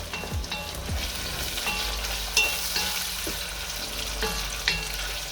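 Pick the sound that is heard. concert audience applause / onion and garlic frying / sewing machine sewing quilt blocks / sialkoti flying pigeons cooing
onion and garlic frying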